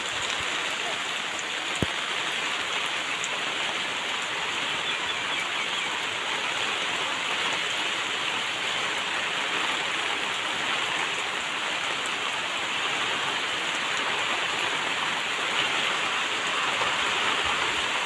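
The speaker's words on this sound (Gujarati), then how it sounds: "ફૂલ વરસાદ પડી રહ્યો છે।" Heavy rain pours steadily in Gujarat, a dense, even wash of noise that holds constant for the whole stretch, close and loud with no voices.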